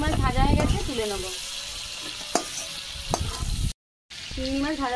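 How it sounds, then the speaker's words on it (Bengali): Prawns sizzle and spatter in hot mustard oil in a wok, loud and close and continuous, with a brief break and a voice speaking over the frying. "কড়াতে সরষের তেল দিয়ে দিচ্ছি, চিংড়ি মাছ ভাজবো"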